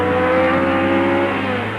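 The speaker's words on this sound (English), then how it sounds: "The car on the line now is David Jones and Ian Pearson in their Lancet GSR 1600, and they're away." A 1978 Lancet GSR 1600 rally car pulling away from the start line, a sustained droning engine note with steady harmonic tones, loud and close throughout.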